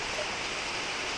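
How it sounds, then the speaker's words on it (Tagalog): Heavy rain pouring down on a cold day, a dense, steady hiss of falling water filling the whole moment with no break and no voices. "Lalong lumakas pa yung ulan."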